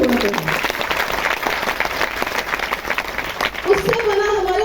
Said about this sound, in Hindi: गेनेटरों के लिए जोरदार ताली होना चाहिए